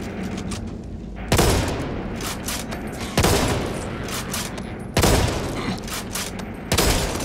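Four loud, booming volleys of gunfire from the co-op shooter Back 4 Blood land roughly every two seconds, each decaying into a rumble, with faint game sounds between them.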